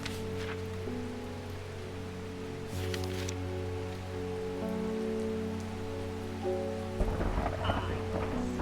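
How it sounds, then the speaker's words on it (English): Rain falls steadily and loud throughout a Strange Horticulture game scene, with rolling thunder swelling in the middle and a sharper crack near the end. "Lightning."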